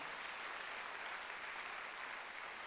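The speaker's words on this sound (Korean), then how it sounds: "박수 한번 더 주세요" A church congregation at a Korean Sunday worship service breaks into sustained, even applause, heard faintly and steadily throughout, with no voices over it.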